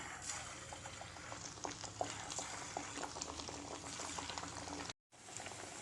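Chicken vadas fry in hot oil over a medium flame, giving a steady, close bubbling sizzle scattered with small crackles and pops that runs continuously, cut by a brief dropout near the end.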